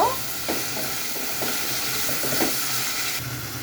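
Chopped tomato and carrot stir-fried in a pan with capsicum for chow mein, an even sizzle with rhythmic spatula stirs and scrapes, close up with no speech.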